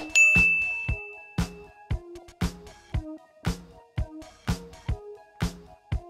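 A bright notification bell rings about eight times in a steady rhythm, each clear metallic ding ringing out briefly before the next, close and alone.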